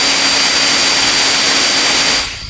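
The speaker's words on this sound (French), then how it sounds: "je vais faire un petit essai pour vous faire entendre un petit peu le bruit du drone et la stabilité du drone" Hubsan Ace Pro drone hovering nearby, its spinning propellers making a steady, loud, high-pitched whine with a constant buzzing tone that holds evenly for over two seconds before starting to fade at the end.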